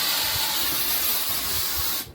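A steady, close hiss of aerosol insecticide spray runs continuously for about two seconds, then cuts off abruptly.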